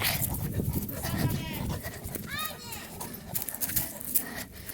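A dog barks and moves about outdoors amid children shouting and playing, its sounds mixed close in with the voices throughout.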